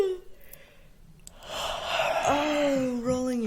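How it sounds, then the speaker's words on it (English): A person yawns during a guided stretching exercise, a long breathy intake rising into a drawn-out voiced moan that falls and tails off, close and fairly loud. "Starting to yawn."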